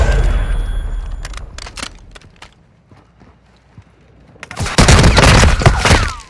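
Gunfire in Call of Duty: Modern Warfare II DMZ, a few sharp shots early and then a loud, chaotic barrage of firing and impacts near the end, close and intense.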